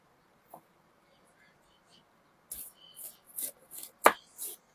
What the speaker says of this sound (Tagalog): hiwain lang natin lahat ng mga ingredient